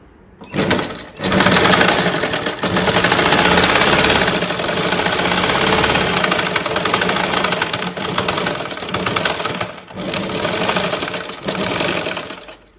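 A domestic sewing machine runs steadily and loudly while stitching, with a fault that leaves loose, uneven, looping stitches. After a brief pause near the start it hums and clatters continuously, with short dips near the end.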